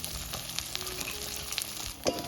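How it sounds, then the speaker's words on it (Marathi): Masala paste with turmeric sautés for a chicken curry, a close, steady sizzle and crackle broken by scattered pops and scraping stirs in the pan, heard alone. "तर मसाला छान असा परतलाय"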